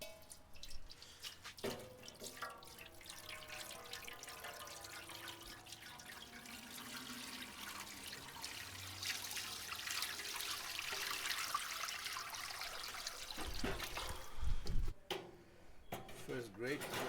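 Water pours into the water pan of a Weber Smokey Mountain charcoal smoker drum set up for a Thanksgiving turkey. A steady splashing stream builds and rises in pitch as the pan fills, with a metallic clunk near the end.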